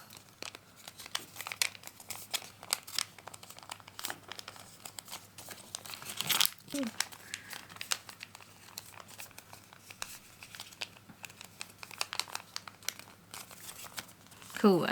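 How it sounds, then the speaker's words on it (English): Layered paper from a sushi origami kit being folded and creased, giving dense, close crinkling and rustling throughout with a sharper crumple midway. "fold along the edge on the printed fold here, which I'm presuming it may be a bit difficult because there's so many layers now"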